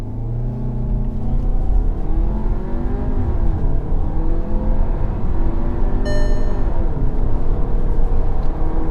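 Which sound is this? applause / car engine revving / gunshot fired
car engine revving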